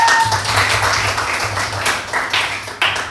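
A class of students clapping hands together in a classroom, a short burst of scattered applause with some tapping, fairly close and lively, with faint background chatter.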